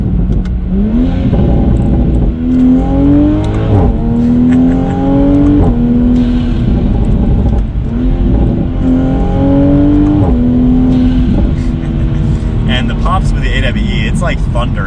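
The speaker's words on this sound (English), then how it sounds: "you hear more of the exhaust tone because the tuning is more aggressive" A 2020 A90 Toyota Supra engine revs loudly and continuously, its pitch sweeping up and dropping back in repeated surges, the throaty, aggressively tuned exhaust close and dominant throughout.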